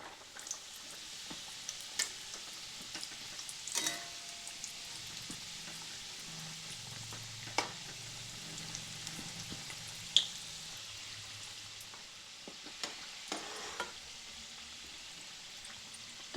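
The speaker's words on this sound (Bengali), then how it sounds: "এগুলিকে আমি গরম তেলের মধ্যে ছেড়ে দিলাম।" Potato and flour snack pieces fry in hot oil over a medium gas flame, giving a steady, moderate bubbling sizzle with occasional sharper crackles and a few faint kitchen clinks throughout.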